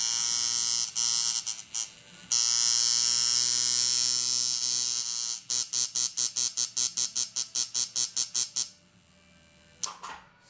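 Tattoo machine cranked up to a higher voltage, buzzing loud and steady, then cut into a rapid series of short even bursts before stopping, no talking.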